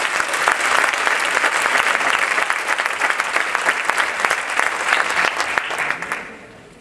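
Audience applause at a university graduation ceremony, a steady dense clapping from a large crowd that holds for about six seconds and then fades away.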